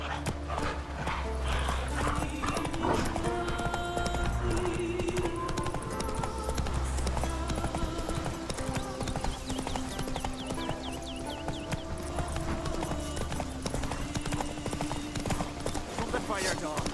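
Roach, the horse in The Witcher 3: Wild Hunt, gallops with steady rapid hoofbeats throughout, over game music and ambience, with a dog barking and voices talking.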